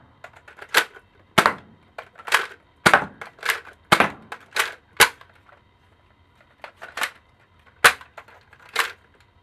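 An X Shot Reflex Revolver toy blaster firing repeatedly: sharp, close clacking snaps in an irregular series, some shots in quick pairs, with quiet gaps between and no talk.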